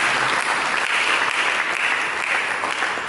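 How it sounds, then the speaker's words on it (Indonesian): Loud, steady applause from a church congregation at a worship service, dense clapping filling the whole stretch without a break. "Mari kita berikan tepuk tangan untuk Yesus."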